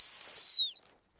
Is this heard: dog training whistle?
yes